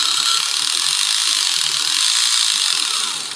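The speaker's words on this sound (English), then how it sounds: "So that's what the gear noise is coming from." Starter gear on a Durafly Auto G2 model autogyro, with a slightly imperfect gearbox, gives a loud, continuous rapid ratcheting clatter that holds steady, then eases slightly at the end.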